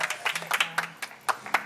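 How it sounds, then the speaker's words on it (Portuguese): A small audience at a marriage proposal claps in scattered, sharp individual hand claps, uneven and close, with a faint low tone running underneath. "Pode bater palma que merece mesmo"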